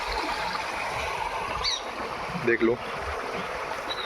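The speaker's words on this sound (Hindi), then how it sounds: "यहाँ पर पानी बह रहा," Water flows in a stream at an outdoor spot, making a steady broadband rush that runs through the whole stretch, with a short burst of nearby talk partway through.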